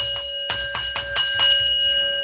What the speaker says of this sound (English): Ring it, damn it, ring the bell,